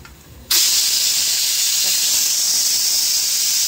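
A pressure cooker holding chicken bursts into a loud, continuous hiss of escaping steam after a brief quiet moment, holding steady and close until the end.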